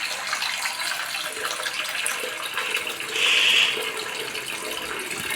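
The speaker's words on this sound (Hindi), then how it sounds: "पानी ले लेता हूँ भरपूर" Water pours steadily into a small cooking pot, a continuous splashing rush with a brief louder burst partway through, close and alone.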